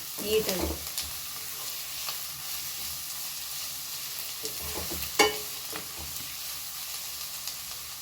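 Drumstick leaves stir-fried in a pan, a steady soft sizzle with scraping spatula strokes and a few sharper clinks from the utensil against the pan, close and alone with no talk.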